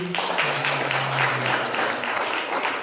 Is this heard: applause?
yes